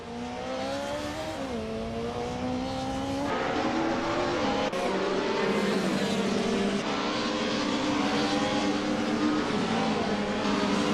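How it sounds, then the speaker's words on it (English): A 1990 Mercedes 190E Evo 2 and other race cars in a racing video game roar continuously, engines rising and dropping through gear changes with faint tire squeal, loud and sustained without talk. "Ice is leading the race in a 1990 Mercedes 190e Evo 2"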